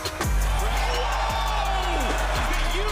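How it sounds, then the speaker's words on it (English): Crowd cheering and screaming at a Street League skateboarding contest in Jacksonville, Florida, a loud continuous roar from a large audience with whoops rising over it, backed by steady low rumble and occasional thumps. "The crowd is screaming."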